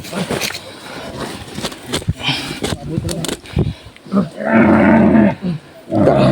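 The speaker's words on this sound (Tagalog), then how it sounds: "Hilak ng baboy." A pig squeals loudly in drawn-out, strained cries near the end, after a stretch of scuffling, thumping noise and voices close by.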